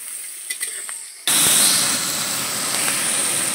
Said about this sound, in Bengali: আর পটলটা ভাজা করছে, আস্তে আস্তে সব রান্না বান্না হবে।